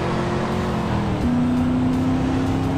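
Lamborghini engine in the video game GTA San Andreas, a steady droning hum that steps up in pitch partway through as it accelerates, loud and continuous with no talk.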